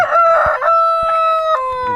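A native rooster crows loudly and close by in one sustained, strained call, with a brief cluck or break partway through before the crow trails off.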